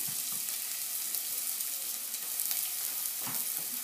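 Onions fry in two spoonfuls of olive oil for a potato curry, a soft continuous sizzle with a couple of light stirring knocks, no voices.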